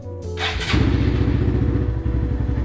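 A Honda Grom motorcycle fitted with a new battery cranks briefly, then fires up and settles into a steady, close, loud idle with a few slight revs and no talking.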